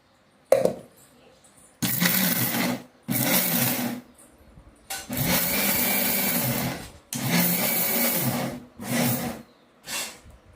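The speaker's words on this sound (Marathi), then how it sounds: "हे पुन्हा एकदा आपण मिक्सरमध्ये फिरवून घेणार आहे" A kitchen mixer grinder churns a peanut and jaggery mixture for laddoos, running in about five loud whirring bursts of a second or two each, separated by short silent pauses.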